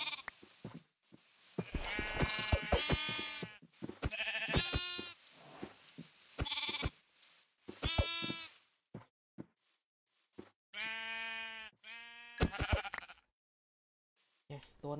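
Sheep in Minecraft bleat in several distinct bursts, some long and wavering, separated by quiet gaps, fairly close and clear.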